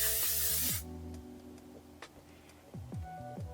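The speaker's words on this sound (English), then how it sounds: "we're going to use the L'Oreal Infallible 3-Second Setting Mist" L'Oreal Infallible 3-Second Setting Mist hisses from a pump bottle onto a face in one short, close burst, followed by a few soft ticks and handling sounds.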